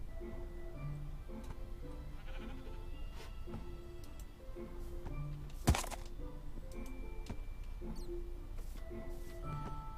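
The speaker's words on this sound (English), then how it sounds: "that noise is usually an indicator that there is a cave nearby." Faint, murky ambient cave noise from the video game Minecraft, with low rumbling tones, scattered clicks and one brief sharp crackle midway, heard steadily throughout without speech.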